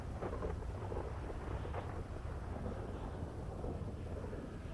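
Rain and thunder in a role-play video game: a dense, continuous wash of rainfall with deep, rumbling thunder rolling underneath, steady and fairly quiet throughout.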